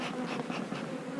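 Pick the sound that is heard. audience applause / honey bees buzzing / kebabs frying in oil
honey bees buzzing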